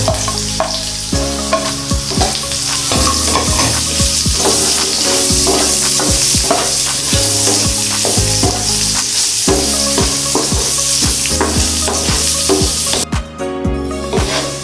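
Chorizo sizzles loudly in a frying pan for a Filipino sautéed mixed vegetable dish, a steady crackling fry with stirring scrapes throughout and no talking.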